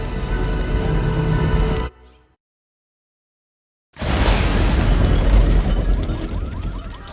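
A massive, roaring explosion blast in the TV series Wonder Man cuts to near silence, then a second thunderous, rumbling shock wave of debris and crackling noise rolls in, loud and sustained.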